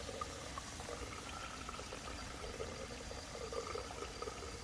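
Water rushes steadily from a shower fed by a Camplux tankless water heater with the handle set to midway, giving a constant, dense hiss with no pauses and no voices.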